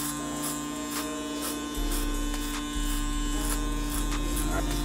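Electric hair clipper running steadily during a self-cut fade, a loud continuous buzz with shifting pitch and load as it moves through hair, with no talking over it.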